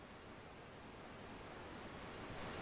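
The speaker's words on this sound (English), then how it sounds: "Can you hear it? White noise." Continuous white noise ambience in a horror video game, a faint, even hiss that holds steady throughout with no voices or other sounds.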